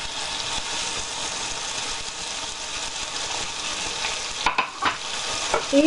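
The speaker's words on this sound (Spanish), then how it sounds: "Y esto lo iremos friendo hasta que se quede doradito." Pancetta sizzles in a little oil in a frying pan while being stirred, a constant close frying hiss with a few scraping stirs near the end.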